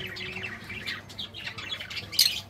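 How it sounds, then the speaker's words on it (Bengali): Pet lovebirds, nearby and fairly loud, give quick bursts of chirps and sharp squawks in an irregular, excited rhythm, with a harsher call near the end and no speech over them. "লাভ বার্ডগুলো বেরিয়ে ওকে দেখছে"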